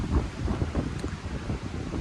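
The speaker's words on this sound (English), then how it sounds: "It's very windy today, and that's really annoying to me." Strong outdoor wind buffets the microphone in a steady, rumbling rush while an owner-operator works on dropping a truck's oil pan; no one speaks.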